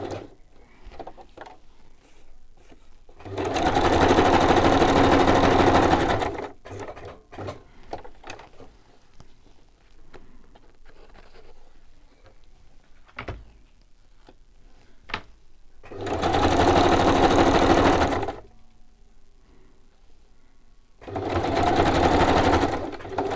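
A sewing machine zigzag-stitches fabric in three loud, steady runs of a few seconds each, separated by quiet pauses with small handling clicks.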